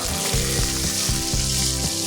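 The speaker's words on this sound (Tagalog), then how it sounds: "Iprito-prituhin natin." Pork frying in a pan, a loud close sizzle with continuous bubbling spatter and soft rhythmic stirring pulses.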